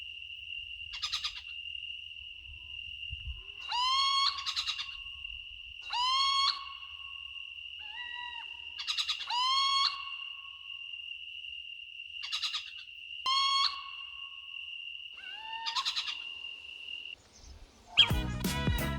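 A bird gives a series of repeated wailing, mewing calls at intervals over a constant high insect drone in a quiet night setting.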